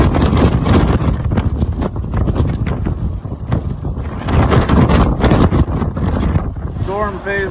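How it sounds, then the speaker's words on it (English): Powerful storm wind blasts across a homestead without letup, a loud, dense roar buffeting the microphone throughout, with a brief voice near the end. "This wind came out of nowhere."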